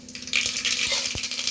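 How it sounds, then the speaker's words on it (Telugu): Mustard seeds spluttering in hot oil, with a continuous hiss and sizzle and a few sharp pops and crackles, close up and fairly loud. "ఇప్పుడు ఆవాలు చిట్టుపట్ట ఉన్నాక"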